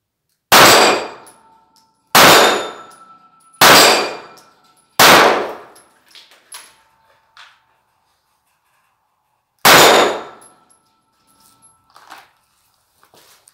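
Five sharp, loud shots from a Taurus G2c 9mm pistol ring out in a slow, uneven sequence at a shooting range, each with a short metallic ring, followed by fainter distant pops.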